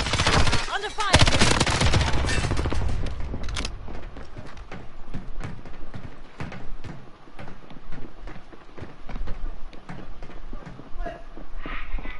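Video game gunfire: rapid bursts of automatic shots rattle close and loud at the start, then thin into scattered, quieter pops and single shots that continue irregularly throughout.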